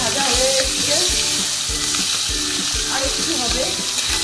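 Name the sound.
hilsa fish head frying in a pan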